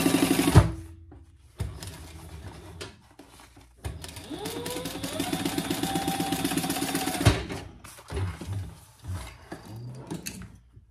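A sewing machine reinforces a seam on a vinyl storage caddy, running in short bursts of rapid stitching with a longer whirring run in the middle and pauses filled by handling clicks.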